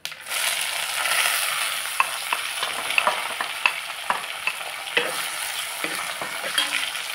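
Moth beans frying in a tempering of mustard seeds, cumin and curry leaves, a bright continuous sizzle close by, with light stirring clicks and taps scattered throughout and no voices.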